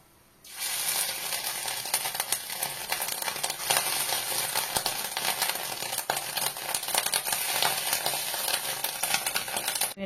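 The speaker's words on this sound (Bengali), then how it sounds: "বড়াগুলো যতক্ষণ ভাজা হচ্ছে" Fish roe fritters fry in hot oil, a loud, continuous crackling sizzle that starts abruptly and holds steady close by, with no talking.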